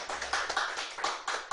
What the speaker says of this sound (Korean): 우리 환영의 박수를 좀 드리겠습니다.